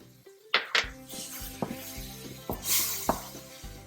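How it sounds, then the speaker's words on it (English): Tomato paste and masalas being stirred in a cooking pot for a Punjabi lobia rajma curry: a spoon scraping and knocking against the pot several times over a faint sizzle, close and fairly clear, without talk. "Give that a nice stir, and all the masalas"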